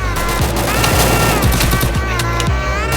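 Rapid automatic UMP gunfire in the mobile shooter game Free Fire, loud bursts of closely spaced shots with a few heavier booms, dense and continuous throughout.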